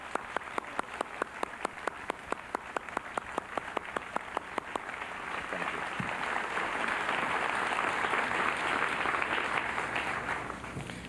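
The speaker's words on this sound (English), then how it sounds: "A round of applause, please." Guests at a Harvard Currier House degree ceremony in 1994 applaud graduates, opening with a few slow rhythmic claps that swell into sustained, dense applause from the crowd.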